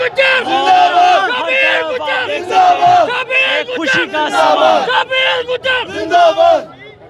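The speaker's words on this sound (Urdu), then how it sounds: "کارکنان بہت پرجوش ہو کر نعرے بازی کرتے ہیں" PTI party workers and voters chant political slogans in celebration as election results come in, a loud close crowd shouting in rhythmic bursts with a leading voice and group responses.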